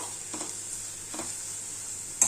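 Grated bottle gourd fries in a pan with a faint, steady sizzle, broken by a few soft scrapes of stirring and a small clink at the end.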